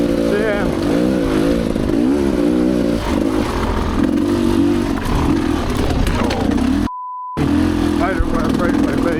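A Rieju Ranger dirt bike ridden on a single-track trail over fresh, wet sand, its engine loud and close, revving and bogging with shifting pitch, with a short dropout midway.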